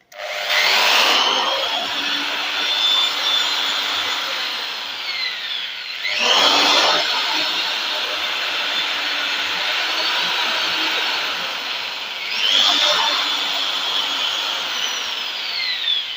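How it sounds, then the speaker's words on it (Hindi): A handheld electric drill drives a small DC motor as a makeshift generator, giving a steady, close whirring whine across the clip, with three louder bursts where the drill speeds up or re-grips. "अभी यूँ ही ड्रिल मशीन के साथ इस मोटर के जो हमने रोटेट किया है"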